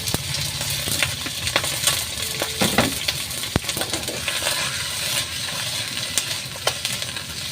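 Pork for bicol express fries in a pan with a steady crackling sizzle, broken by sharp clinks and scrapes of a utensil against the pan, close and continuous with no voices.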